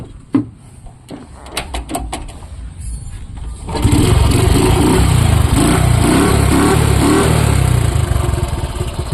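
A motorcycle is first handled with a few sharp clicks and knocks, then its engine starts and settles into a loud, steady running roar with rhythmic revving pulses, heard close up with no talk.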